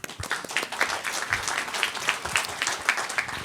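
An audience claps together in a brief burst of applause, many hands at once, fairly distant and steady throughout.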